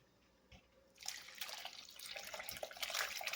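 Water and soft mozzarella curds are dumped through a cloth-lined colander, a quiet trickle swelling into a continuous splashing, draining rush with scattered drips.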